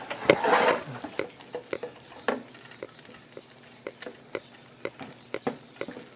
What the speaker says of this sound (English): Fry it up.